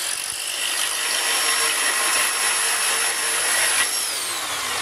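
A hacksaw cuts into a Cube 3 3D printer cartridge, a loud, steady, harsh rasp running unbroken and close up.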